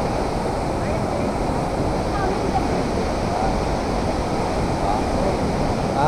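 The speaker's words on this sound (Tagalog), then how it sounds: "Talagang napakalakas ng agos." Bomod-ok Falls in Sagada roars with a strong current, water rushing in a loud, unbroken wash of noise, buffeted at times by wind on the microphone.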